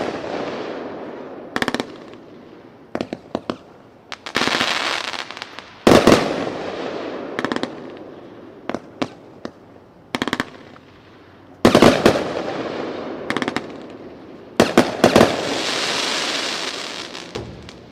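A Winda "Fat Lady" 30-shot firework cake fires at a fireworks demo expo, sharp bangs going off in irregular bursts and clusters, each followed by crackling and a hissing tail.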